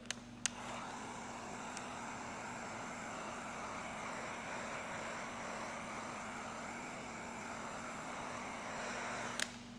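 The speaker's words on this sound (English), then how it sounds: "I'm gonna take my heat gun and I'm gonna heat it up nice and hot and nice and malleable" A heat gun warms vinyl wrap on a car mirror, its steady fan-and-heater whoosh running continuously and fairly close, framed by a couple of sharp clicks at the start and end.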